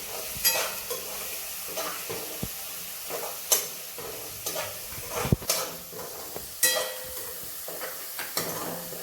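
Green chili and garlic sautéed in a pan for a yogurt kadhi, with a steady low sizzle broken by repeated scraping stirs of a spatula, fairly close and without talk.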